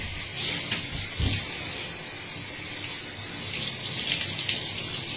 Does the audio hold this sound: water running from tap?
yes